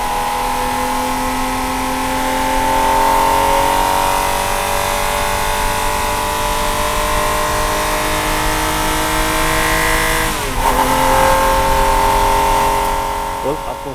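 Ferrari F50 engine heard from the cabin while driving at Sonoma Raceway, a loud, sustained mid-pitched roar that climbs steadily in revs, dips briefly at a gear shift and pulls again before easing off.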